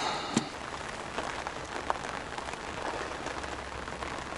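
Soft, steady rain falls over a fishing spot on open water, forming an even wash of patter with a few slightly sharper drops. It is faint and continuous, with no voices.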